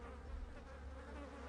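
A swarm of bees buzzing in a steady, faint drone that fills a pit, with no voices over it.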